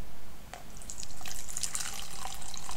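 Tap water from a household faucet pours steadily into a beaker being filled to 100 milliliters, a continuous close splashing and trickling with no pauses.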